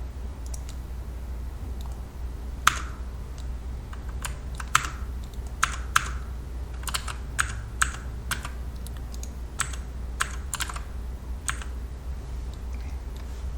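Keys pressed on a computer keyboard while working in Blender, a run of sharp, separate clicks spaced unevenly over a steady low hum, fairly close and clear with no talking.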